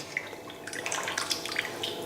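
Goat intestines are washed by hand in water while making a kudal gravy, giving close, irregular splashes, sloshes and drips that come in quick clusters.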